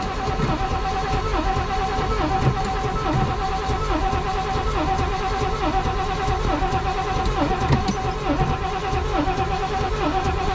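An old Chevy squarebody truck engine idling steadily, close and loud, with a regular rhythmic chugging pulse and no talk over it.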